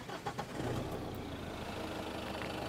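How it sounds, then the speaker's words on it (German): A motorhome's engine starts with a short cranking burst, then settles into a steady, fairly quiet idle. "Dann würde ich sagen, starten wir mal den Motor."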